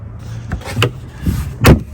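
A car refrigerator lid, an AOBOSI CL50 12-volt 53-quart (50 L) unit, is swung and latched shut with a couple of solid plastic clunks and a final firm snap, close up over a low background hum.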